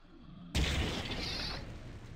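A napalm cannon shot from the video game Blood 2 bursts with a sudden loud blast, then a sustained roaring fiery rush that carries on for over a second.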